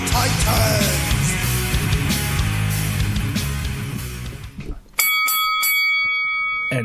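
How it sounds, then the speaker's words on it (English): A single bell is struck sharply to open a wrestling-themed show, then rings out with a clear metallic tone that slowly decays. It follows a fading bed of loud music and stands alone once struck. "the bell rings and we are off"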